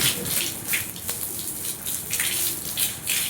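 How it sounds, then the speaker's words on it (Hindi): Cold water from a hose pipe splashes over someone bathing outdoors, a continuous hissing spray with recurring louder splashes close by, with no voices. "मैं यही साइड नहा लूंगा मस्त पाइप से, ठंडे ठंडे पानी से"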